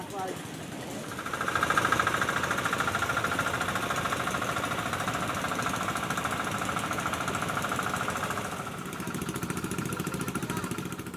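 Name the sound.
air compressor engine running for illegal compressor gold mining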